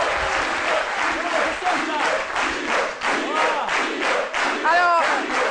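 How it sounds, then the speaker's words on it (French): A live audience applauding a performer at a French lunchtime show, continuous loud clapping mixed with cheers and whoops, a voice rising over the crowd near the end. "On applaudit très fort Dr Philo."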